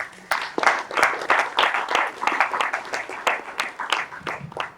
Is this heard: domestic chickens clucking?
no